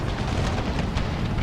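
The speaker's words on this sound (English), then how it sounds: "My cannons are just doing work." Cannon fire in a Civil War battle game rolls as a dense, continuous booming rumble, loud and close, with no distinct gaps between blasts.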